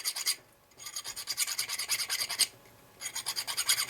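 A metal bar clamp, ground on a grinder, gets its inner burrs removed by hand filing: rapid, close rasping strokes come in bursts separated by short pauses.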